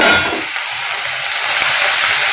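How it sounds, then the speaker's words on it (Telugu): Ivy gourd pieces frying in a pan, a loud, steady broadband sizzle with occasional light clinks of a utensil against the pan. "ఇంకా వేగాలి ఉన్న ముక్కలన్నీ వేగాలి"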